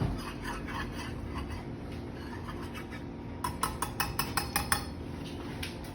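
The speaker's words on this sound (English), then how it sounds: "So I'm just gonna mix that up with a whisk." A whisk rattles quickly against a bowl of eggs and salt in a burst of light, rhythmic clinks over a low background hum, fairly faint.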